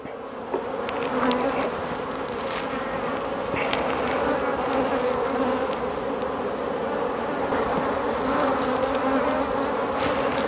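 Honeybees buzzing at an open hive while a swarm is being split: a dense, steady hum close by, with individual bees whining past, continuous throughout and with no talking.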